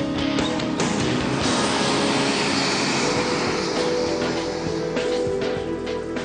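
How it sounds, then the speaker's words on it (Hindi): A helicopter starts up on the ground for a politician's constituency tour, giving a loud, steady broadband engine and rotor roar that persists throughout with no talking. "चलो बोलो हेलीकॉप्टर स्टार्ट करिए।"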